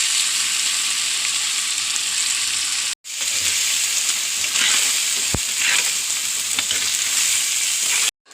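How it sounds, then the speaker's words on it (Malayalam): Fish fries in hot oil in a pan with a loud, continuous sizzle and crackle, broken by a brief cut and a sharp clank of a utensil. "എണ്ണ കാഞ്ഞു, വറുക്കെടുത്ത്"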